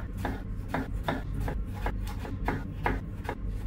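A knife chops okra on a cutting board for an anchovy and okra dish, about ten evenly spaced, crisp close taps across a few seconds with no talking.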